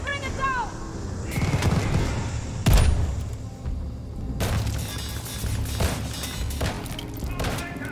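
Mortar explosions in the Call of Duty Vanguard video game boom amid dense battlefield noise, with sharp blasts near the start and around the middle over a continuous roar of gunfire, and voices shouting now and then.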